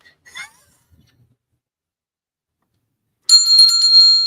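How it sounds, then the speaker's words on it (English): A doorbell rings at a home's front door, a bright ding-dong tone sounding loudly near the end of a quiet stretch, with faint voice murmurs earlier. "When he rang the bell"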